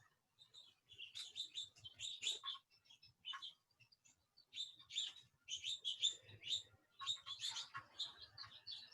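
Birds chirp and tweet outdoors in short bright bursts separated by gaps, fairly distant and quiet, with a faint low rumble underneath.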